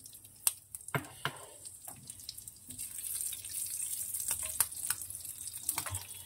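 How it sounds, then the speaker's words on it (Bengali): Whole slit dried chillies crackle and pop in hot oil in a home kitchen pan, giving scattered sharp snaps over a steady sizzling hiss, with no talking. "লঙ্কার দানাগুলো ফাটছে"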